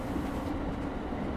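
A train running steadily along the rails, a dense continuous rumble with wheel-on-track rattle, close and fairly loud throughout, with no voices.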